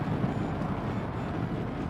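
A dense, roaring rush of wind buffets the microphone continuously while riding a motorcycle at 80 km/h, heavy and low, with no voices audible.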